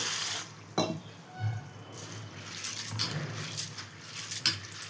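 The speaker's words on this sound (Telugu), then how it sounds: "ముందు వాటర్ పోసుకొని శుభ్రంగా కడుక్కోవాలి" Water splashes and sloshes in a container as sago pearls are rinsed, with irregular pouring and swishing sounds close by.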